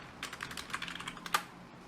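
Quick, close typing on a computer keyboard, a rapid run of light key clicks ending with a sharper final keystroke, with no talking.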